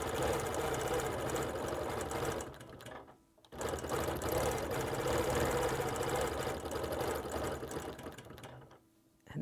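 A sewing machine quilting applique with monofilament thread runs in a steady rapid whir, pausing briefly twice before starting up again at full speed.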